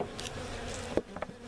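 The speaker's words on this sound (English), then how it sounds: "There's quite a few bees down in there." Honey bees buzz in a hive during a laying-worker colony inspection, a steady close drone with a few brief sharper bursts toward the end.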